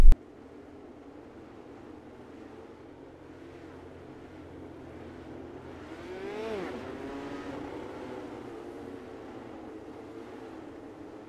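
Midget race cars roar around the dirt oval at Kokomo during a 10-lap heat race, a steady distant engine drone that swells around the midpoint as cars sweep past nearer, with rising and falling pitch.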